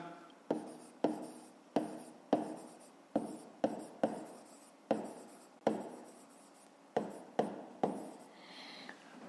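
A maths solution is written out by hand on paper, heard as a rhythmic series of close, crisp pen strokes and taps, each sharp onset trailing off, with short pauses between words and no talk.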